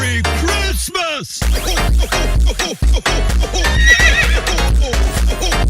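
A horse neighs and whinnies in a loud, tonal call, followed by snorts and clip-clopping hooves with repeated whinnying bursts, presented as a quaker parrot and horse hybrid.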